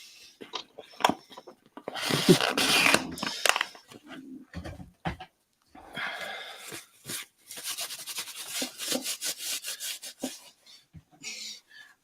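Rusty hands being wiped clean with workshop wipes, heard as close, irregular rubbing and scrubbing bursts with short pauses and no talk.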